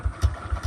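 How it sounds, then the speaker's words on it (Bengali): TVS Raider 125cc motorcycle engine idling after starting, a quick, steady low thumping pulse, close and even, with no talking. "এই জাস্ট একটা চাপ দিলে স্টার্ট হয়ে যায়"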